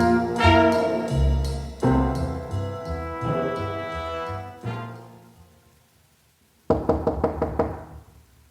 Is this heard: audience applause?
no